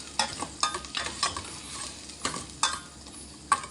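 Onions sautéing in a pan previously used for frying egg, a low sizzle punctuated by repeated scraping and tapping strokes of a spatula at an uneven rhythm.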